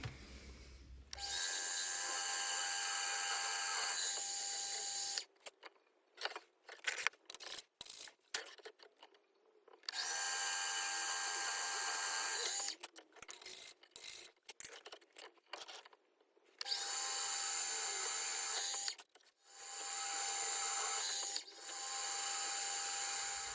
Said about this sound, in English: time now to take it over to the drill and start drilling some holes